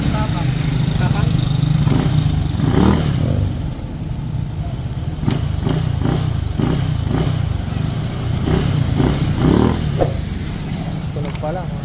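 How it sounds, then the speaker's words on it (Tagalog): Honda Click 125 scooter bored up to a 160cc engine, idling close by with several sharp throttle revs rising and falling, while people talk over it. "Honda yung tunog."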